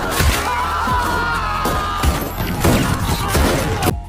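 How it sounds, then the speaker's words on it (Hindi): Rifle volley gunfire at the Jallianwala Bagh massacre, loud repeated cracks and bangs in rapid irregular bursts over a chaotic roaring wash of crowd screams, ending abruptly. "गोलियां बारिश की तरह उन मासूम लोगों पर बरसने लगी"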